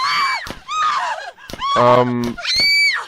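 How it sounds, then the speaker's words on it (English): A woman screaming, several loud, wavering cries broken by short pauses and heard close rather than distant. "it sounds like there's a woman screaming in the background"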